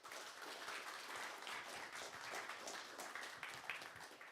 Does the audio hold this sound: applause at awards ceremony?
yes